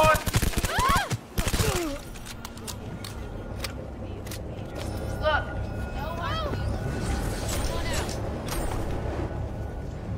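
Rapid gunfire in the video game Cyberpunk 2077, with bursts of close, sharp shots and a dense volley early on, then scattered single shots over game sounds, under a player's voice.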